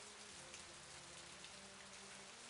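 Steady light rain patters on surfaces in the Agatha Christie: And Then There Were None video game, a constant even hiss of drizzle with no voices.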